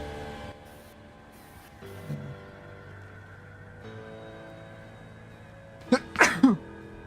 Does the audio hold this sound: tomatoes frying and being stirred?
no